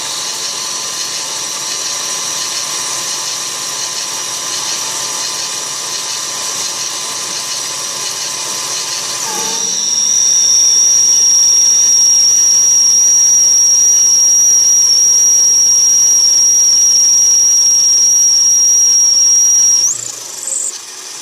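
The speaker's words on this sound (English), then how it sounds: "a little bit of squealing, but that's a pretty deep cut for light lathe" A mini lathe takes a deep cut in 303 stainless steel, running as a loud steady whine that shifts partway into a sharper, sustained high squeal before briefly dropping off near the end.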